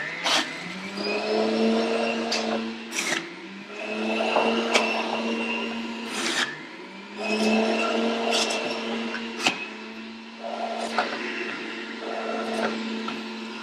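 Juicer pressing cabbage into juice whirs with a tonal motor hum in repeated bursts, each press rising and falling, punctuated by sharp clicks and clunks.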